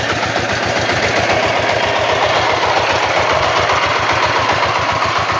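A farm tractor engine runs in a rice paddy being levelled for planting, giving a loud, close, steady rhythmic chugging that never lets up, with no talking over it.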